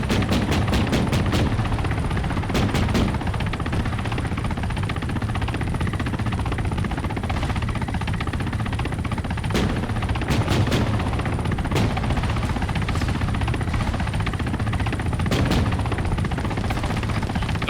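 A Mi-24 Hind helicopter in Arma 3 drones continuously and loudly while bursts of gunfire and rapid shots crackle through, some sharp volleys standing out above the dense rotor roar.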